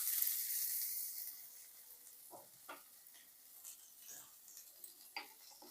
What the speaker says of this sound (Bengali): এখন আমি ওই তেলের মধ্যে দিয়ে দিচ্ছি ব্রোকলি।